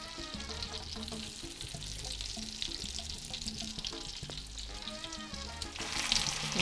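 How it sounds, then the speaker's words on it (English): Beef hits a pan of melted butter and sizzles steadily, a bright continuous crackle and hiss heard up close with small spits and stirring sounds, louder near the end. "I'm going to go ahead now and I'm going to add my meat"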